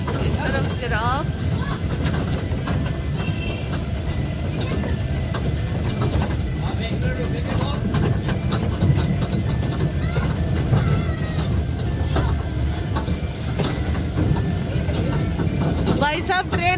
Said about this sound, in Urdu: بھائی صاحب ٹرین ایسے چلا رہے, گولی کی سپیڈ سے چلا رہے